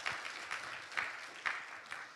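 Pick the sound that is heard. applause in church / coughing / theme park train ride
applause in church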